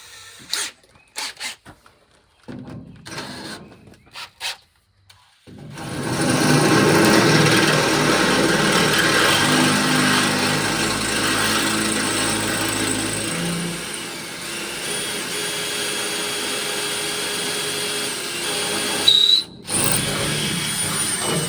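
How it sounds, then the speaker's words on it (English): Power drill boring steadily through a metal part on a 2003 Cateye dump truck while bump stops are fitted, a long continuous whine after a few short starts, with a brief clunk near the end. "We got her drilled through."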